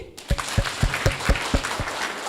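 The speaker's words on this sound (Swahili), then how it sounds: "Ebu tupigie Mungu wetu makofi." A church congregation at an annual delegates meeting claps in slow, rhythmic unison, about eight loud, close beats over a roomy crowd murmur.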